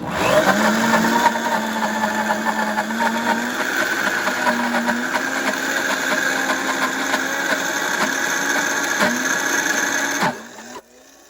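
A Vitamix blender churns pistachios into nut butter with a loud, steady, close motor whir. It runs unbroken for about ten seconds, then cuts off abruptly.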